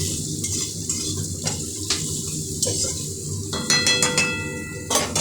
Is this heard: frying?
yes